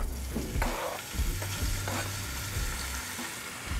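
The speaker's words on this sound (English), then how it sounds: "I'm gonna put it in the pan, start cooking." Sliced bacon fries in a pan as the start of a clam chowder, a loud steady sizzle close up, broken by a few stirring scrapes and low clunks against the pan, with no talking.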